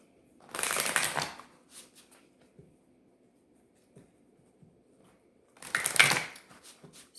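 Tarot cards are shuffled in two short bursts of riffling, crisp and close, with a quiet pause of scattered soft taps between them and no speech.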